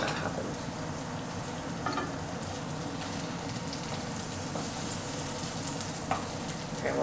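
A pancake cooks in a hot pan with a continuous moderate sizzle and faint scattered crackles, close by and without voices.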